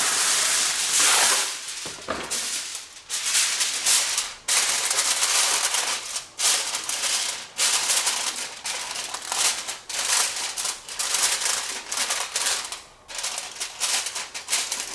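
Aluminum foil crimped and pressed down around the edges of a roasting pan holding a whole chicken with garlic and herbs: close, repeated crinkling crackles in quick, uneven bursts throughout.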